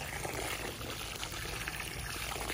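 Water pours steadily from a watering container onto potted plants, a continuous close splashing trickle that runs unbroken for the whole stretch with no voices over it.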